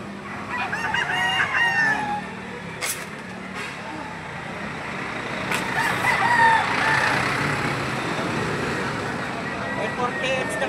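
Pumpkin sweater gamefowl roosters crowing repeatedly at a rooster farm, loud and near, with clucking and distant vehicle noise in the background and people talking now and then.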